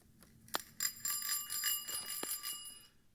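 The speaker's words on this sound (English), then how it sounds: "Does the bell work?" A bicycle bell rings with a bright, shimmering metallic trill that sustains and slowly fades, framed by a couple of light taps.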